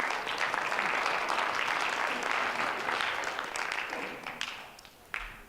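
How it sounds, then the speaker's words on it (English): Students at a school opiate project kickoff assembly clap in a loud, sustained round of applause that thins toward the end, leaving a few scattered claps. "You should give yourselves all a round of applause."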